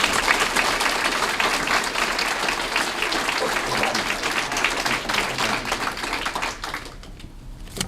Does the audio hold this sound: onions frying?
no